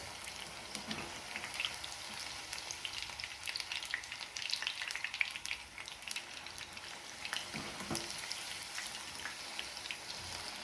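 Eggplant pieces frying in hot oil give a soft, even sizzle with light scattered pops, fairly faint and steady throughout.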